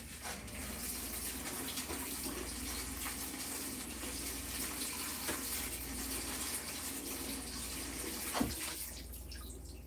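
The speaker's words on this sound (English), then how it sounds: "Let me rinse it off." Running tap water pours steadily over dried saltfish (codfish) being rinsed, a continuous broadband gush with a faint handling bump near the end, close and alone.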